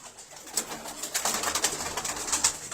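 Pigeons coo repeatedly at a pigeon sale, soft throaty calls recurring through the whole stretch over a faint background, close by and with no talk.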